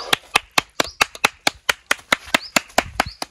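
Several people clap in a steady, fairly quick rhythm, with sharp close hand claps repeating about three or four times a second and no talk over them.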